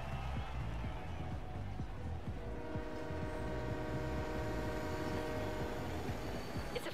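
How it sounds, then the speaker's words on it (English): Freight train in Forza Horizon 3 rumbles past with a long sustained horn blast, heavy low rolling clatter of wagons underneath and steady close engine drone throughout. "It's a freight train."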